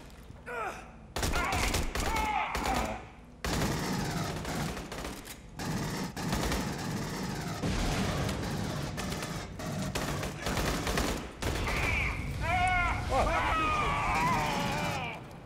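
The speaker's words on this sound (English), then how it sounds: "Ow, I'm being shot." Gunfire in the cooperative shooter game Aliens: Colonial Marines, with dense bursts of rapid automatic fire and impacts mixed with game effects, while players talk over it throughout.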